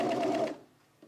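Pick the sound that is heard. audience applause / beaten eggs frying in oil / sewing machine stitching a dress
sewing machine stitching a dress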